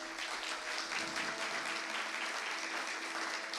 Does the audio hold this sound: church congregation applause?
yes